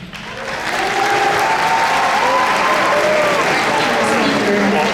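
A ceremony audience breaks into full applause during a school's introductions of officials. The dense clapping swells within the first second and then holds steady and loud, with faint voices mixed in.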